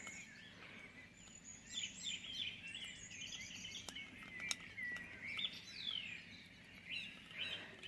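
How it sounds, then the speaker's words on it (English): Birds sing and chirp in a quiet early-morning outdoor setting beside a main road, overlapping trills and tweets coming from a moderate distance, faint but continuous, with no talk. "Can you hear the birds?"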